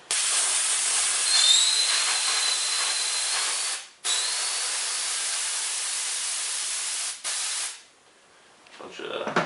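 Compressed air blasts through an old Suzuki motorcycle line, spraying old oil into a bucket in a loud, steady hiss, cut by two short pauses before a final burst.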